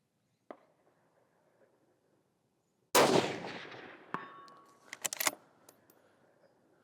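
A rifle resting on a CKYE-POD tripod fires at an outdoor shooting range, one loud, booming shot followed by a long decaying echo, then a few clattering metallic clicks and knocks, no talking.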